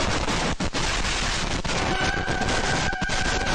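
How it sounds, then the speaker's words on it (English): Fireworks going off wrong burst into a dense, continuous barrage of loud crackling bangs at close range, with no talking. "Firework gone wrong"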